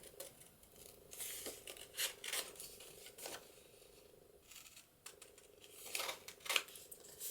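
Scissors snipping the corners off a folded paper card for an envelope booklet, a few quiet close cuts with short pauses between them.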